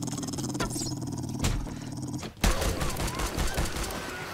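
In the game 7 Days to Die, dogs snarl and bark near a player while gunfire breaks out, with a sharp burst of shots after a brief lull and talk mixed in.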